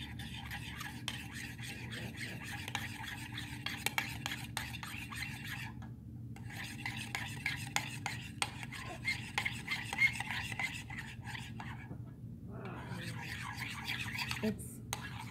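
Homemade slime made without glue being mixed, a steady close rubbing and scraping with brief pauses between stretches of stirring.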